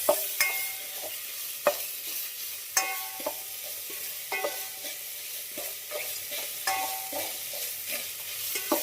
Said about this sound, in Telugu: అల్లం పేస్ట్ అయితే బాగా వేగిపోయింది.